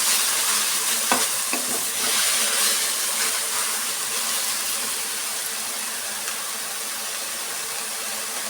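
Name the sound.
coriander leaves frying and stirred in oil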